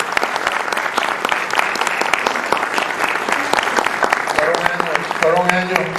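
Audience applause at a Cuban cultural heritage tribute event in Miami, steady dense clapping throughout, with a voice starting to speak over it near the end.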